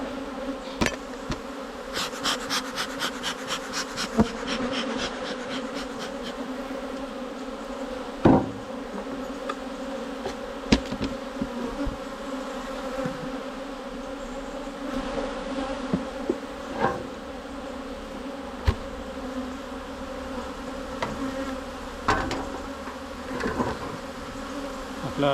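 A dense, steady hum of honeybees buzzing around a very populous but calm hive during the honey harvest, with scattered knocks and clicks of handling in the foreground.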